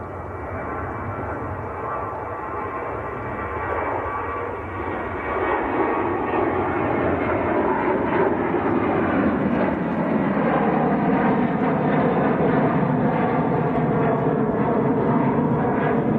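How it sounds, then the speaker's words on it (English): A Ryanair jet takes off at Manchester Airport, its engine roar swelling from a steady rumble into a loud, broad, sustained thunder as it climbs away. "That's a Ryanair rocket launch."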